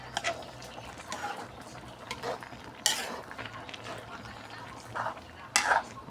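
Ginataang kamansi with tinapa and shrimp cooks in coconut milk as a spoon stirs it: soft scraping and bubbling with a few sharper clinks of utensil on pot, fairly quiet and close.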